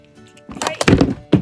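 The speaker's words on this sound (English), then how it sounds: "Alright, so we just had a whole mirror come down on us, if you're wondering what that noise was." A whole mirror falls down indoors, making a sudden cluster of loud thuds and clattering knocks lasting about a second, followed by one more bang.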